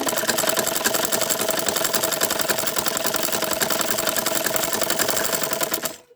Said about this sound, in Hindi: ये देखिए इस तरह से नाड़े की तरह हमें इन पट्टियों को सिल लेना है।